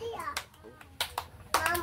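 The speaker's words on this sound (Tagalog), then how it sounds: "tagaan na to sila og tulo ka palakpak" A group of children gives a few sharp, brief claps in a classroom group activity, mixed with children's voices talking nearby.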